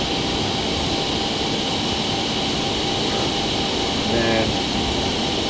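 Steady broadband roar of an F/A-18 jet engine in Microsoft Flight Simulator 2020 during a low-altitude flight, running continuously and evenly throughout, with a brief voice speaking near the end.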